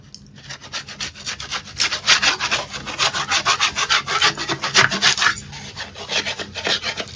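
Old flaking pink paint, applied without primer, is scrubbed off an interior wall in fast rhythmic rasping strokes, each loud scrape pulsing in quick succession with brief pauses between bursts.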